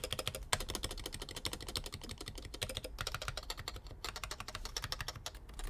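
Fast typing on a YMDK M0110 electrostatic capacitive keyboard with GMK keycaps and lubed sliders, a rapid, even stream of soft thocky keystrokes, close and fairly quiet, with no talking.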